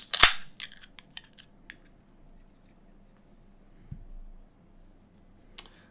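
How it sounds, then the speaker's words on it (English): A sharp, loud crack and hiss as a beer can is popped open, followed by a few scattered clicks and light handling noises, then a quiet stretch with a faint later tap. "let's get this cracked open"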